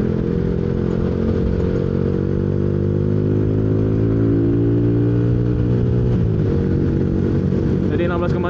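Yamaha Jupiter MX motorcycle with a 155 bore-up engine and a daily-use tune-up cam revving hard on a dyno, a loud, steady, close engine note whose pitch climbs and then drops sharply near the end.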